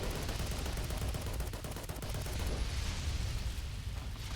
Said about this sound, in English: I'd rather just kill it with this gun.